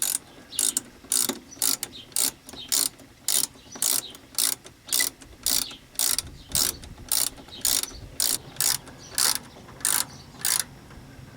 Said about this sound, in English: I'm tightening the nut down on the top, and I'm feeling the shaft with my fingers